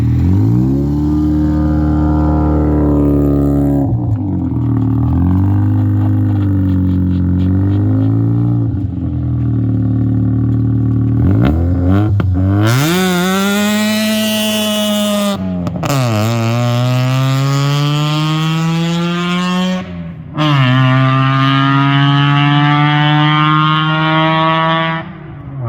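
A Mazda RX7's naturally aspirated 13B rotary engine, running without nitrous, revs loud and close in several long rising pulls, each climbing in pitch before dropping back to a rough idle.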